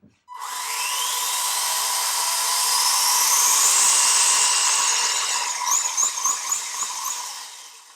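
An RC10 semi truck gearbox and wheels spin on a bench test, producing a loud, steady motor whine that climbs in pitch and then wavers near the end. No one speaks.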